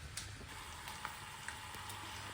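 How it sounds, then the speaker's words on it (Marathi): Peanuts frying in oil in a large kadhai give off a faint, even sizzle with scattered tiny pops and crackles, heard alone with no voices. "दाणे तळणं सुरू आहे सध्या"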